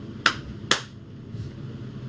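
Two sharp hand claps about half a second apart, close and crisp, with a low room hum and no talking.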